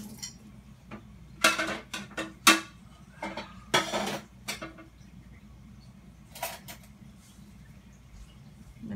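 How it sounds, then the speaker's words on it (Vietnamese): A metal spoon stirring pickling liquid for Korean-style yellow pickled radish in a pot, with scattered clinks and scrapes against the side, some sharp, some soft, over a quiet hum. "Mình sẽ dùng muỗng khuấy lên cho nó đều lên các bạn."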